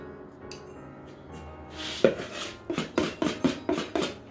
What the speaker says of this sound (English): Make sure you scrape the bowl so that you get all the mixture in.